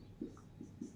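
A pen scratches quietly across paper while a maths solution is written out, three short strokes in quick succession with no talking.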